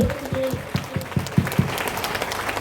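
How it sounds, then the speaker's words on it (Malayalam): A congregation at a Christian divine convention in Poopara claps together for the Lord, a short burst of loud rhythmic applause with about eight distinct beats that fades into a scattered crowd murmur. "നല്ല കയ്യടി കൊടുത്ത് കർത്താവിനെ നമുക്ക് പ്രതിക്ക്"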